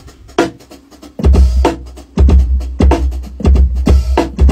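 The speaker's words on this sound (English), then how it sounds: "Next up, let's add the bass kick." A bass kick drum joins a beat that already layers snare and hi-hats, landing as loud, deep, punchy thumps in a steady rhythm over busy percussion.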